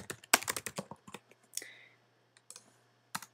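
Keys clatter on a computer keyboard as a product description is typed, a quick irregular burst of close, crisp clicks followed by a few scattered keystrokes with pauses between.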